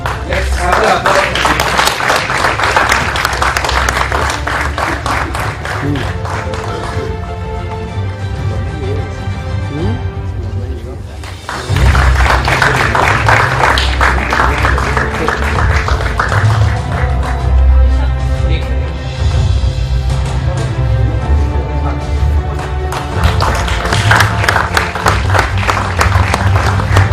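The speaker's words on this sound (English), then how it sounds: "Let's have the applause." An audience at an awards ceremony grand finale claps steadily and loudly, a dense sustained applause with a short dip midway, while a voice talks over it in places.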